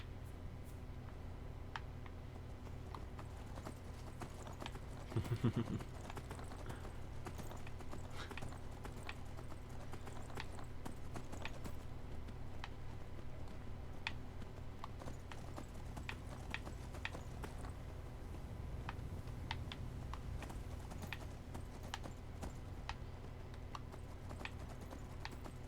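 Steady clip-clopping of a horse's hooves in the Skyrim video game, a continuous rhythmic patter at moderate level over low game ambience, with a brief faint whinny partway through and no speech.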